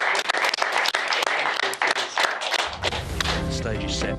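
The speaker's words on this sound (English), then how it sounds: "round of applause for Kyren Wilson, our brand new world champion" Crowd applause at the 2024 World Snooker Championship final, celebrating the newly crowned world champion, Kyren Wilson, with dense clapping that swells and carries on loudly throughout.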